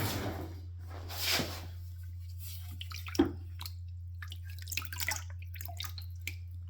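Water washing off a model during finish work: scattered drips and splashes with a brief gush, close and faint over a steady low hum.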